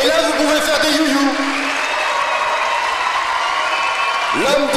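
Audience at a disability awards ceremony applauding the man of the year, a steady wash of clapping and crowd noise across the whole stretch, with voices talking over it near the start and end.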